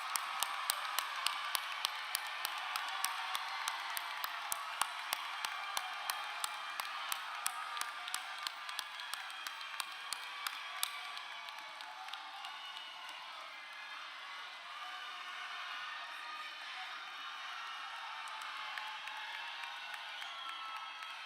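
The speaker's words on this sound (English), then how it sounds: "let's give them a round of applause" Graduation audience at a school commencement applauding and cheering for families, a dense wash of clapping with sharp hand claps, strongest early and gradually thinning, fairly loud and continuous with crowd murmur.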